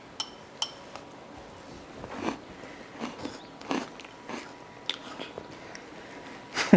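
Crunchy freeze-dried peaches bitten over ice cream, with a few distinct crisp crunches spaced across several seconds and light clinks of a spoon or dish between them.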